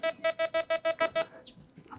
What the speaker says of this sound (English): Okay, that means that the collar is on. It goes beep, beep, beep, beep.